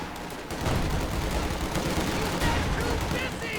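Artillery barrage pounding a held building in Company of Heroes 2, a dense continuous wash of explosions and gunfire with low rumbling impacts, loud and sustained throughout, with faint voices mixed in.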